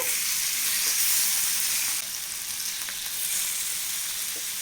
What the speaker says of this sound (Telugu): ఇప్పుడు మిగిలిన ఫ్రాన్స్ని కూడా ఇలాగే ఫ్రై చేస్తున్నా